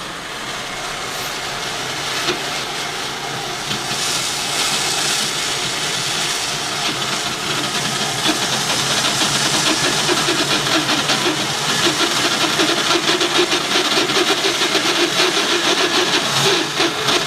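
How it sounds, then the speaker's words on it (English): Bandsaw fitted with a new 3 teeth-per-inch blade cutting a large wooden bowl blank on a circle jig, a loud steady whine and rasp running continuously and growing slightly louder, no talking. "I got a new blade, 3 teeth per inch instead of 4 teeth per inch."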